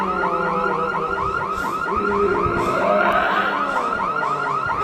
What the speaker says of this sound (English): I have approached the car and appeared to have activated some form of alarm.